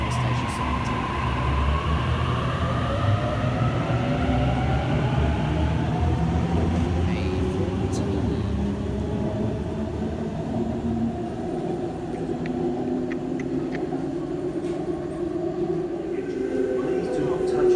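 A Sydney Trains Hornsby service departs a station platform with a steady, continuous rumble and rising motor whine as it pulls away, close and even throughout.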